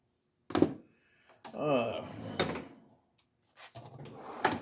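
A metal tool chest drawer slides open with a sustained scraping rumble between sharp knocks and clunks, close by, and someone speaks briefly around it.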